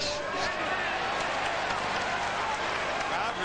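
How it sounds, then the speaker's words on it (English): Boxing crowd at a Spadafora vs. Manfredy title fight roaring in reaction to Spadafora's punches: a dense, steady wall of cheering and applause with a commentator talking over it. "Crowd responds there to Spadafora throwing"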